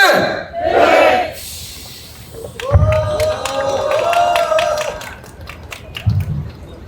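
Crowd at an outdoor construction workers' rally in front of Suwon Station cheers and claps in loud, sustained bursts, with shouting voices rising over the applause.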